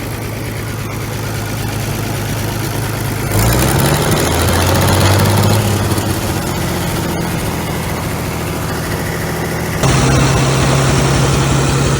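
A 1950s road roller engine running loud and close, a low steady idle that rises in pitch when the throttle opens, then settles back to a rough drone with a faint high whine.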